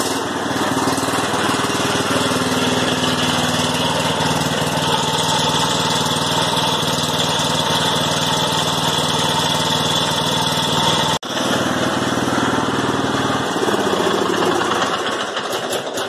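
A Cub Cadet XT1 LT42 lawn tractor engine runs steadily at idle after an oil and filter change, a close, loud, continuous mechanical drone with a brief dip near the end.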